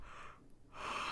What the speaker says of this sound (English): So I'm gonna yawn